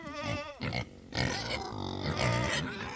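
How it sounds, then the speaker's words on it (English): Pigs on an off-grid homestead grunt and squeal loudly and close up in a string of overlapping, throaty calls across the whole few seconds, with no talking. "But the pigs are all healed up good."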